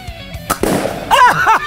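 An Umarex Torq break-barrel air rifle, a budget ambidextrous model, fires once from a left-handed hold, giving a sharp close pop with a brief spring twang, then a voice reacts excitedly.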